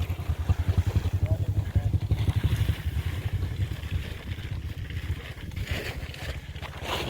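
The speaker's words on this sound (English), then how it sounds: "the guys are coming back from lunch on their scooters" Motor scooters ride in at a Philippine house construction site, a steady low engine drone running throughout with an outdoor wash, and voices calling out over the sound.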